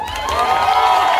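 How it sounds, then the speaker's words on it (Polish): A concert crowd at a Nocny Kochanek show in Gomunice cheers and applauds in a loud, dense, continuous wash of voices and claps. "Nie no, ogromne brawa!"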